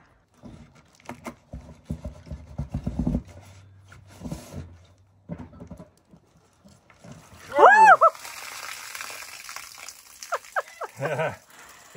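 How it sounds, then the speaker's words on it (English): Water gushes out of a hole in a house under construction, a sudden loud splashing burst midway after quieter knocking and handling sounds, with people talking around it. "It came gushing from there."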